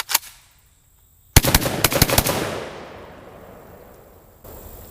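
A JTS M12AK shotgun firing light loads: one shot, a pause, then a rapid string of about six close, loud blasts that ring out into a long fading echo.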